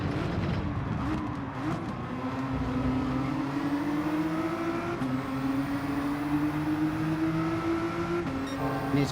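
Nismo and AMG race cars in Gran Turismo 7 droning steadily at high revs, engine pitch climbing gradually through gears as they battle side by side, a continuous, moderately loud motor whine with no talk.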